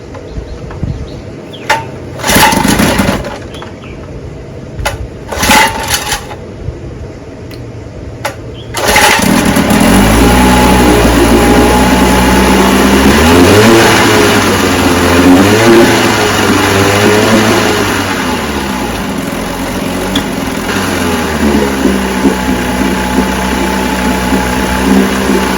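A vintage 10 HP Johnson QD-23 outboard motor is cranked with a few short sputtering pulls, then catches and runs steadily at a loud, droning idle that rises and settles, heard close and alone.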